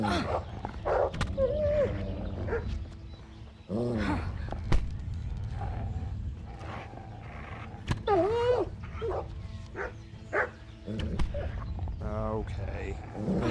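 A wolf snarls and fights a dog in the medieval game Kingdom Come: Deliverance: close, loud bursts of growling, yelping and whimpering, broken up by sharp hits and voices.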